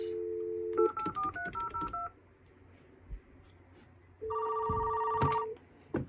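An outside telephone dials a call into a custom TDM telephone switch built on Dialogic voice boards: a steady tone, then a quick run of clear DTMF keypad beeps, a pause, and a loud, steady two-tone ringing signal near the line.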